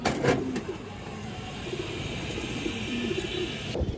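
Domestic fancy pigeons coo in soft, repeated low calls close by, over a steady background hum with faint passing traffic.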